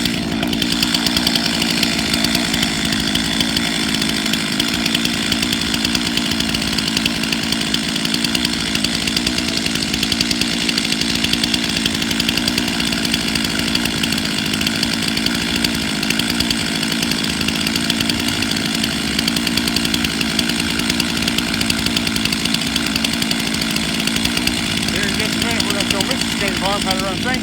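A chainsaw on a farm runs steadily and loudly the whole time, a continuous engine drone with no pauses or revving breaks.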